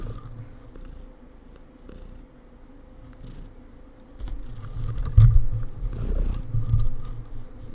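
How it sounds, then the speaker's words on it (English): A cat purrs close by, a low steady rumble running throughout and swelling louder in the second half, with faint clicks in the background and no talking. "He hears all this purring and stuff."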